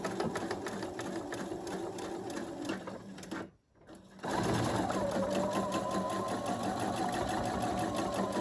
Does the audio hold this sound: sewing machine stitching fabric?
yes